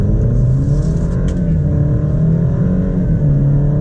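A 2019 rear-wheel-drive Alfa Romeo Stelvio accelerates hard, its engine droning loud and close in a strong, rising, continuous tone.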